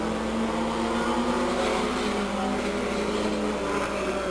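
Race truck engines roar steadily at Stockton 99 Speedway, a dense, continuous drone of several trucks running close together with no gaps or talk.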